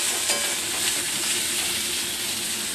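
Bottle gourd curry cooking in a pan, a loud, close, steady hiss and crackle of sizzling oil running without a break and with no talking.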